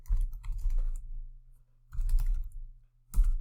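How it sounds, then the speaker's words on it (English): Computer keyboard typing in short bursts, with a cluster of rapid keystrokes, a pause, then two brief flurries of clicking, fairly close and alone without any talk. "what you do is obviously just type it in"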